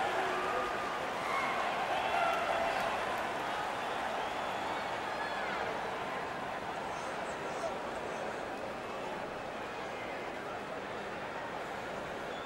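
Excited home crowd in the NHL 19 video game during an international match between Slovakia and France, a steady broad roar of cheering spectators that continues under a commentator's speech.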